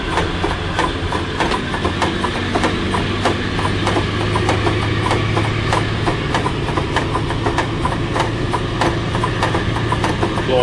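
A heavy diesel engine of a D1062 locomotive rumbles steadily with a low droning hum, joined by rhythmic rattling and clicking, heard from the cab while working at higher throttle.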